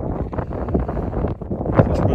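Wind gusts across an exposed mountain hike in the Fisherfield hills of Scotland, buffeting the microphone with a loud, rough, uneven rush that never lets up.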